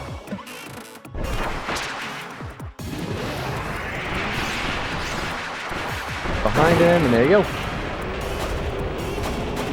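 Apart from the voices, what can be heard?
boss explosions in Kirby's Return to Dreamland Deluxe video game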